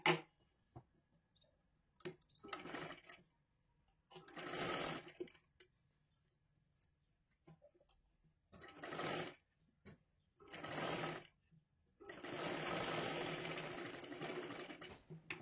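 A sewing machine stitches the sleeve seam of a princess blouse in several separate runs of a few seconds each, with quiet pauses between them and a longer final run.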